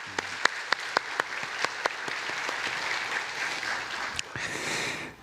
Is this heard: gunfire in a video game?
no